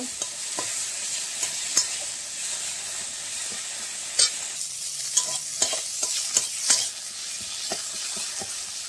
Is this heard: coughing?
no